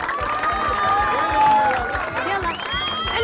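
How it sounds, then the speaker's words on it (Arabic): A crowd claps and cheers for a singer performing a traditional Iraqi mawwal, sustained applause with whoops and voices layered over a rhythmic beat, loud and close. "صفقوا له"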